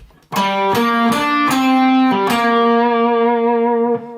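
A heavily distorted electric guitar plays a short riff of chugging notes, loud and sustained, ending on a long ringing chord.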